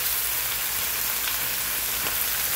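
Garlic sizzles and fries in a pan turned up to full heat, a steady dense hiss with no pauses, close and fairly loud, with no talking over it.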